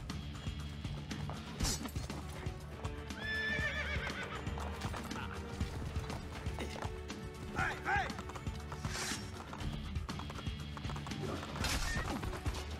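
Horse neighing and hooves clopping in Assassin's Creed 2, a whinny and hoof clatter heard amid busy game sound and music, with brief bursts of crashing.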